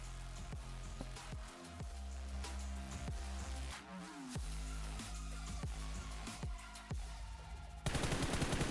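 Gunfire in a solo-versus-duo battle royale video game: a steady, rapid string of sharp shots cracks out over a droning game background, followed by a final burst of noise at the end.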